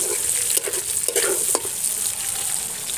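Young jackfruit pieces fry in hot oil, giving a steady close sizzle with a few soft stirring scrapes and clinks, no voices.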